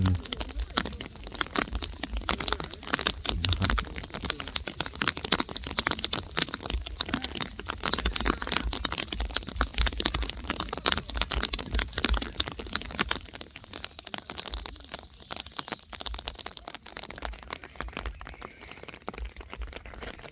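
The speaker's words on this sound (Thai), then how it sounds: "ฝนมาแล้วปอกแป๊กปอกแป๊กปอกแป๊กเลย" Rain pattering down on the Phu Phan mountain range along a forest trail, a dense, steady crackling patter of drops close by that persists throughout, easing slightly toward the end.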